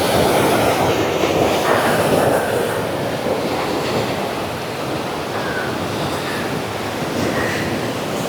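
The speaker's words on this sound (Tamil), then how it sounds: "டேமுக்கு வர்ற தண்ணி" Water pours through the overflow gates of Thirumoorthy Dam near Tiruppur in a loud, continuous rushing roar that holds steady throughout.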